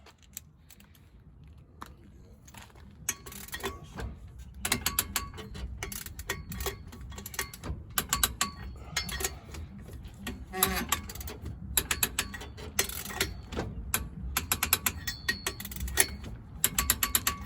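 A torque wrench tightening the lug nuts on a Grand Marquis wheel fitted with wheel spacers, giving bursts of rapid ratcheting clicks that grow busier and louder, close by, with no talk.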